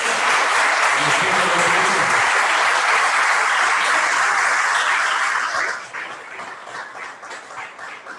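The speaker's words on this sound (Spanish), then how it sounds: "Denle el aplauso al Señor." A Sunday school church congregation breaks into loud sustained applause that fades after about six seconds into scattered claps.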